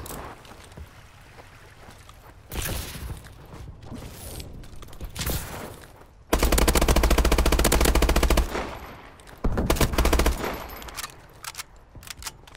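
Bal-27 rifle fire in Call of Duty Advanced Warfare: scattered single shots and short bursts, then two long, loud sustained automatic volleys with clattering mechanical sounds between them.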